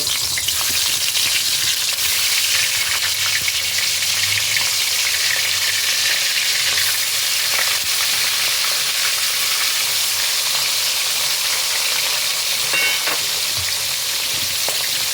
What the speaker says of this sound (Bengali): ওই তেলের মধ্যে আমি ছেড়ে দিচ্ছি চিংড়ি মাছগুলো